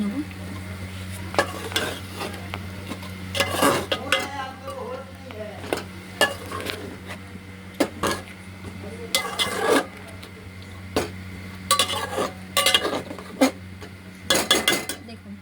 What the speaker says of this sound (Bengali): দেখুন এটা নাড়ানো হচ্ছে, এটা এইভাবে আরও হাফ অ্যান আওয়ার কষা হবে।